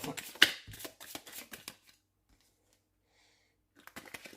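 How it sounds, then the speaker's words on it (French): Oracle cards shuffled by hand ahead of a six-card reading: a quick run of crisp riffling and sliding card noise with a soft voice underneath, then a pause of near silence before faint card handling returns. "On va effectuer un petit tirage de 6 avec l'oracle des Médéores."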